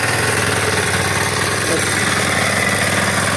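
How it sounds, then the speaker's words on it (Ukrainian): A walk-behind tractor engine runs steadily at idle, loud and close, with a constant low mechanical throb and vibration that holds unchanged throughout with no voices. "І наш мотоблок."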